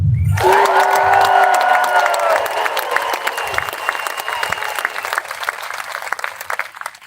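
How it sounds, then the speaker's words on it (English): Loud cheering and whooping from a protest rally crowd in Midland, Michigan, with sustained clapping that gradually tapers off into scattered applause. "Let's hear a cheer for all of you who love your country."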